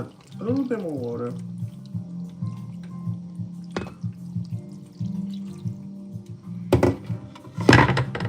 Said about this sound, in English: I'm gonna go ahead and add a little bit more water.